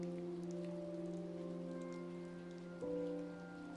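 Rain falls as a steady, even patter that stays constant throughout, with a faint sustained musical drone layered underneath.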